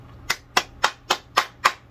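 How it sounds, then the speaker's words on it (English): Applause-like clapping from a small group, seven sharp, evenly spaced bursts in about two seconds, fairly close and loud with no talk over it. "That deserves an applause right there."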